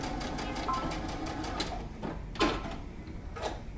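A sewing machine runs in short quiet bursts while stitching pocket pieces of pants together, a faint, soft mechanical whir with a few brief clicks and rustles of fabric.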